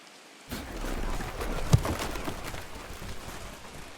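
Steady rain falls over a stadium during a Madden NFL 25 playoff game between the San Francisco 49ers and Seattle Seahawks, a broad hiss that starts suddenly, with one sharp thud midway.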